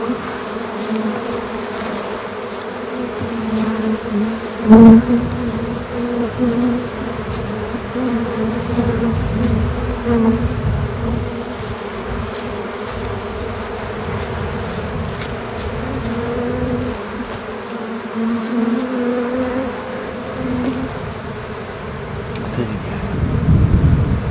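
Honeybees swarm around a hive in a continuous, dense buzzing drone that stays close and steady, with occasional faint handling knocks and some wind.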